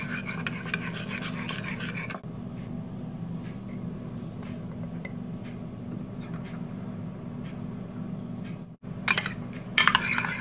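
Crepioca batter with chia is stirred in a bowl, light scraping and tapping of a utensil against the bowl over a steady low hum, with a few sharper clinks near the end.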